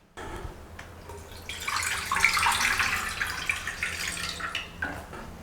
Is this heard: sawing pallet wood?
no